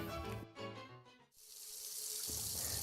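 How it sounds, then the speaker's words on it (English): Tap water running from a faucet into a sink during handwashing, a steady, quiet splashing rush that grows fuller after a brief pause, with music faintly beneath. "run warm water over your hands"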